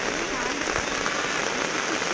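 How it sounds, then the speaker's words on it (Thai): Steady rain pattering down over an open-air street market, a dense, even hiss filling the whole moment with no break, no voices standing out above it. "มันฝนตกนะคะ"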